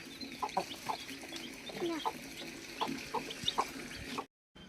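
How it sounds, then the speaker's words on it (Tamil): A brood of chicks and hens gathered around drinking water on a farm, with repeated short clucks and soft peeps scattered close by, fairly quiet, ending in a brief silence. "எல்லா கோழி குஞ்சும் வந்து தண்ணி குடிச்சிக்கிட்டு இருந்தாங்க"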